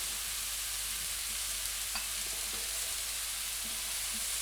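Leek fondue for a curry fries quietly in a pan under a steady background hiss, with a few soft scrapes and clinks as it is stirred.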